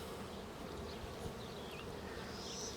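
Honey bees hum in a steady, dense drone inside a queenless beehive, a close, even buzz holding at one level from start to finish with no voices.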